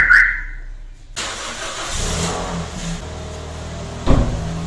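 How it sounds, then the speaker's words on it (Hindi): A car engine cranks and catches after a brief beep and near silence, then settles into a steady, close idle on a winter morning warm-up, with one sharp knock near the end. "गाड़ी को मैंने स्टार्ट कर दिया"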